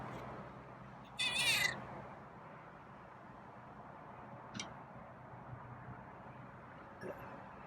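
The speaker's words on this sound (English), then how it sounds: "Is that a meow of disgust?" A single cat meow rises over quiet room noise, followed by a few faint ticks and taps.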